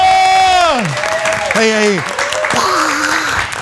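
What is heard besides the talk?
studio audience applause for guest Rigeo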